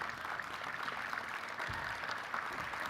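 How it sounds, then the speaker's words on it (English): Audience applause at an education conference session, an even wash of clapping that sounds faint and distant in a large room. "Yes, you can applaud."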